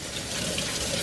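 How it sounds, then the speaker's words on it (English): Cold tap water runs over drained boiled potatoes in a colander in a kitchen sink, a brief, steady hiss of flowing water. "drain them into a colander in your sink and run some cold water over them"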